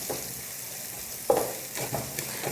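Finely chopped onion frying in a pan until golden, a steady soft sizzle with occasional stirring scrapes, close and moderately quiet, no talking.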